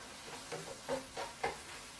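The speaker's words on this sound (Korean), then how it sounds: "이게 치킨 스탑을 같이 넣고 이렇게 볶는 거예요." Meat stir-fried in a pan with chicken stock while making paella, a faint steady sizzle broken by a few soft scraping stirs of the spatula.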